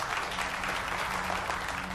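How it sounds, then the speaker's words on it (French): Applause greets a winner, a brief steady wash of clapping from a small crowd, moderately faint and continuous without speech. "Applaudissez-la, on a une gagnante."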